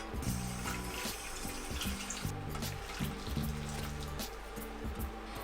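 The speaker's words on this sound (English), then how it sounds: "so now I'm going to strain away that liquid" Boiled lemon liquid is strained away in a kitchen while making lemon meringue loaf cakes, giving a steady close splashing pour of water into a sink with intermittent gurgles and clinks.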